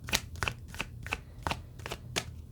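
Tarot cards shuffled by hand produce a close, rhythmic series of crisp slaps and riffles, roughly seven evenly spaced snaps across a couple of seconds.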